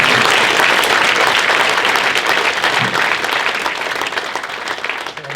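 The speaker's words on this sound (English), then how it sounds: "So if we could have a round of applause." Loud, dense applause from a banquet audience at a high school FFA chapter event, sustained clapping that tapers gradually over several seconds.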